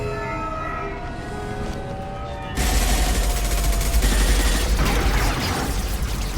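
Sustained gunfire erupts in a Mass Effect 2 battle, a dense, loud rattle of rapid shots that starts abruptly partway through and continues to the end, preceded by a tonal siren-like game sound.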